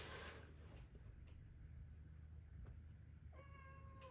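A house cat on a holiday in Bordeaux, quiet at first under low room hum, then a clear, close meow near the end.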